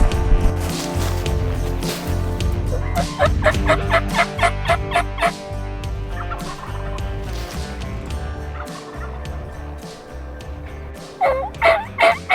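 Wild turkeys gobble repeatedly during a Texas and Arkansas spring turkey hunt, loud, overlapping calls carried over a dense, rumbling outdoor background, with another burst of gobbling near the end.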